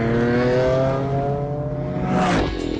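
A Ferrari Enzo engine rises in pitch as the car accelerates hard, strong stacked harmonics climbing steadily before a brief rasping surge near the end, loud and close with no voices.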